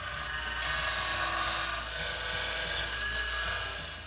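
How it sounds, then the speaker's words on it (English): A belt sander grinds steadily against an applewood tool handle, making a loud, continuous abrasive whir with slight shifts in pitch as the wood is pressed and moved. "the belt sander should be good to remove the bulk of the material underneath."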